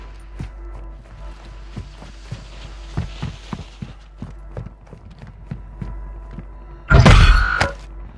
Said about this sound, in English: Tossing smoke grenade!